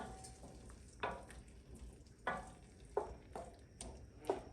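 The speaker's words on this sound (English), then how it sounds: "we give a nice turn with the heavy cream" Heavy cream being stirred into frying tomato, garlic and onion, a soft background sizzle broken by repeated scraping strokes of the spoon, roughly six of them at uneven intervals.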